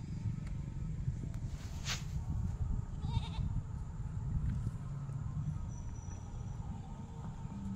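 Goats bleat outdoors, a few short cries rising over a steady, noisy rural background with no talking.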